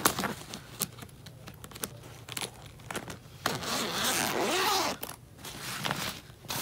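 Zipper on a compartment of a packed travel bag being pulled open and shut in several quick rasping strokes, close and crisp, with a few soft handling knocks between.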